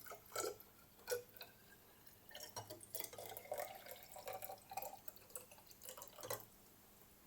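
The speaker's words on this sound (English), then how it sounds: "just measure 100 millilitres of water into the measuring cylinder" Water measured into a measuring cylinder in a school chemistry lab, small trickles and drips landing in irregular bursts at close range, fairly quiet, with no talking.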